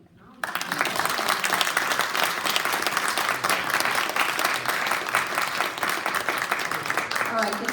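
A church or community gathering audience bursts into sustained applause after a woman's testimony, a dense, steady wash of many hands clapping that starts abruptly and carries on loud with some cheering and voices mixed in.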